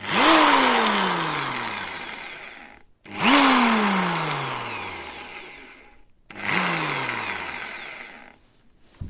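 Three short bursts from a Vitals ET21200G electric drill running in reverse: each time the motor whines up sharply, then spins down gradually with falling pitch, separated by brief pauses.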